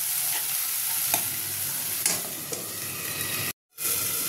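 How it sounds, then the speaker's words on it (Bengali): A masala of chopped tomato, slit green chili, turmeric and chili powder is stirred in a hot pan for a Bengali tangra fish curry. The pan gives a steady close-up sizzle with soft scrapes of the spoon and a brief silent gap near the end. "এবার এটা একটু করে নেড়ে দেবো ভালো করে।"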